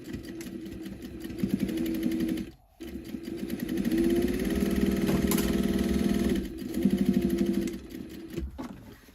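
Domestic sewing machine stitching a pocket onto tote bag fabric, running in steady motor-driven bursts with a brief pause near the three-second mark, close and moderately loud with no talking.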